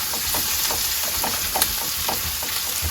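Cajun spice seasoning stirred into vegetables frying in a pan, with a steady sizzle and soft scraping strokes repeating through the clip, close and moderately loud with no talk.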